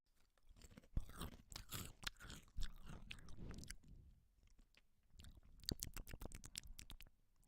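Crunchy potato chips being chewed close to the mic, a steady run of crisp bites and crackling crunches with brief pauses between mouthfuls, quiet and intimate.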